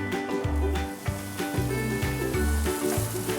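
Bell pepper sizzling in olive oil in a pan on a home stove, a steady close-up frying hiss that runs throughout beneath a rhythmic, low-pitched tonal background.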